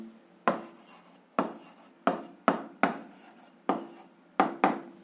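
Pen or chalk strokes writing out a system of equations for a seventh-grade algebra exercise, heard as about eight separate scratchy bursts in an irregular rhythm, close and fairly quiet, with no talking.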